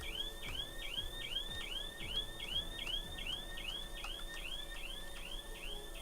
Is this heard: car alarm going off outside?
yes